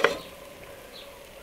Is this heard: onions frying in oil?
yes